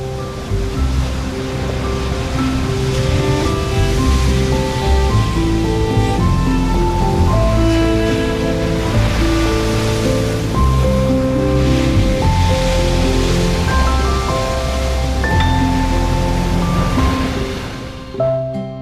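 Ocean waves crash and surge continuously at an East Sea harbour in Korea after a typhoon, a loud, dense roar of surf with no voices.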